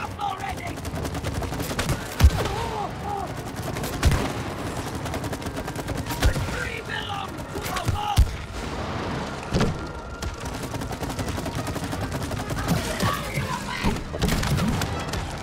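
Gunfire in the It Takes Two video game: repeated sharp shots and thuds spaced through busy game sound and music, moderately loud, with voices talking at times.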